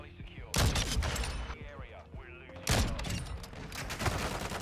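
The Intervention sniper rifle fires on a night map in Modern Warfare 2, with two loud, sharp shots about two seconds apart, each followed by a ringing tail over game sound.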